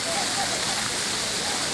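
Steady, dense hiss of splashing fountain water jets at the Giant Wild Goose Pagoda, a constant spray with no breaks throughout.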